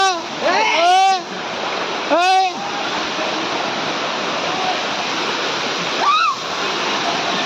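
People bathing and splashing on an island outing, with steady rushing water throughout and loud shouts and calls from several voices, some of them children.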